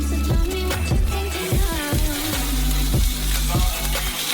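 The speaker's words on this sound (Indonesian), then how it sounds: "Bacon adalah yang berikutnya. Jadi kita kirimkan ke wajannya." Bacon frying in a pan for lasagna, a steady close sizzle with repeated low thumps and clatter of handling through the clip, no talk.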